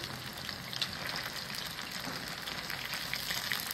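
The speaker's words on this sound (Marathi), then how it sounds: "तेल चांगलं तापून द्यायचं आहे म्हणजे मग छान असं खरपूस तळलं जातं" Chicken 65 pieces deep-fry in hot oil over a high flame, giving a steady, dense crackling sizzle that holds evenly throughout with no voices.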